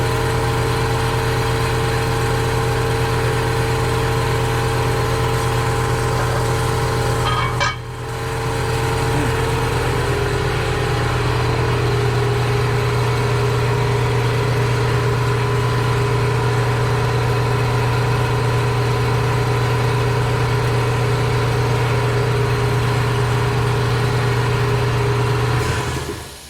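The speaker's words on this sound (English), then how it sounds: "Sorry for the compressor noise there." A loud, steady mechanical hum of a running compressor drones continuously, with a brief dip partway through before resuming at full strength.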